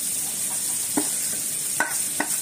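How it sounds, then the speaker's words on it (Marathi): Spices are stirred into onions frying in oil, with a soft background sizzle and a few distinct spoon scrapes against the pan, close by with no speech. "हे चांगलं मिक्स करून घेऊ।"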